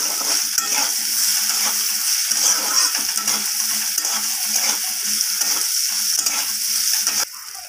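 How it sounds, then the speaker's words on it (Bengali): Papaya fries in a pan with turmeric and salt, giving a continuous close hiss and sizzle with light stirring scrapes throughout. "এরপর আমি পেঁপেটাকে একটু হালকা করে ভেজে নেব।"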